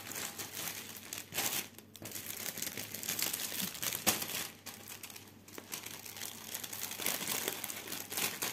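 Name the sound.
adhesive tape sticking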